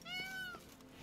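Peacocks in the video game The Witcher 3: Blood and Wine give a cat-like meow, one drawn-out, rising-then-falling wail, close and fairly loud.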